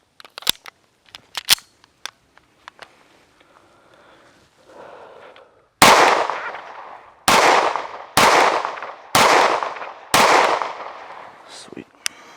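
Five sharp, loud pistol shots from a Staccato C firing 9mm 124-grain rounds at 7 yards, evenly spaced about a second apart, each with a bright ringing decay, after some faint handling clicks.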